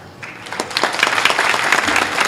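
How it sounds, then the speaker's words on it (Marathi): A crowd at a Marathi kirtan claps in an uneven burst that swells and grows denser, fairly close and loud, with no speech over it. "टाळ्या नका वाजू"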